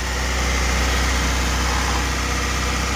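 A swapped engine in a Honda HR-V with 165,000 km on it, running steadily at idle with a low, continuous rumble and vibration, close and constant throughout.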